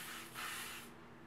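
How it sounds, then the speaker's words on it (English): A short hissing spray from an aerosol can of Sebastian hair shaping spray, close by and fairly quiet, lasting under a second before fading into a faint background hum. "I take a little bit of my Sebastian shaping spray"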